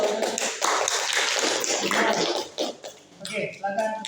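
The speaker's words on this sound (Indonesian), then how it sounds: "Kita beri tepuk tangan untuk kelompok apa namanya ini?" Classroom applause for a student group: dense, loud clapping for a couple of seconds that thins out and breaks apart, with voices joining as it fades.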